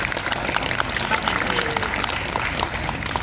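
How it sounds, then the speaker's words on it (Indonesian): An audience at a monologue and music performance gives dense, continuous applause with crowd noise and voices mixed in. "Tepuk tangan dong buat semuanya"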